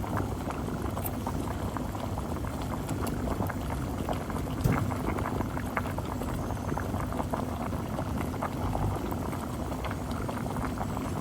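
Chicken and mustard green soup boils steadily in a pot, giving a dense, continuous bubbling that stays level throughout with no voices.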